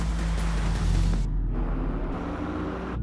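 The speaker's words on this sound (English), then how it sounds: "That is the sound of BMW performance without a single piston or cylinder." Steady low rumble and broadband whoosh of an all-electric BMW driving, continuous and fairly close, with the high hiss dropping away partway through.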